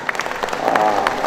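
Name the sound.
audience applause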